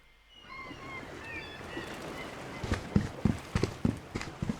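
A character's footsteps cross dirt in a Unity game using Wwise: soft, rhythmic crunching steps set in near the end over a faint ambient bed with a few chirping tones early on.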